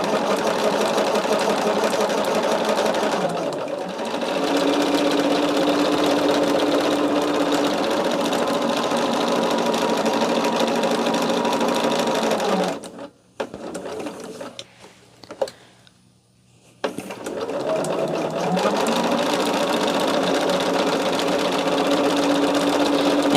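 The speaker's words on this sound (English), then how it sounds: "And actually sewing the rows doesn't take too much time either." A sewing machine stitches pinned quilt rows together in long, steady close-up runs, with a brief pause midway before the motor starts up again.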